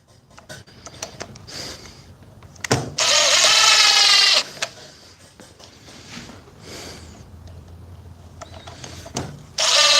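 Cordless battery impact drivers from Dewalt and Milwaukee fire in loud, sustained bursts of hammering rattle, with a long run near the start and another cutting in at the end, separated by quieter handling clatter.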